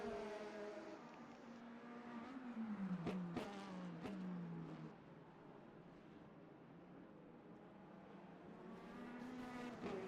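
Race car engines at Monza in the Le Mans Ultimate racing game, including a red Corvette: a continuous whining engine drone with pitch sweeps through gear changes and a few sharp clicks, steady and fairly close.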